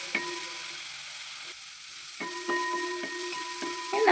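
Ingredients for a ripe mango dish sauté in a pan with a continuous, even sizzle up close, while faint tonal notes ring in the background.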